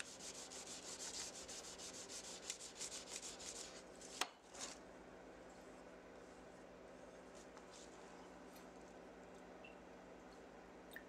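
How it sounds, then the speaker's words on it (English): Hand sanding the grind lines on a steel knife blank: quiet, rhythmic rubbing strokes repeat closely for a few seconds, then a single knock and fainter scraping. "I'm not a real big fan of hand sanding, but I decided to clean up the grind lines on this particular blank."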